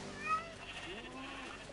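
Sheep bleating in the Minecraft video game, one short wavering bleat near the start followed by a fainter drawn-out call under low background noise.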